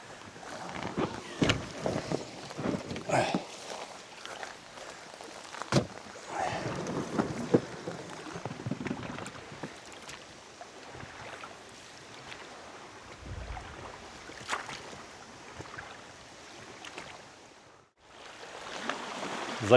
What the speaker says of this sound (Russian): Ветер, конечно, такой, что на веслах с трудом зашел сюда, в этот проем.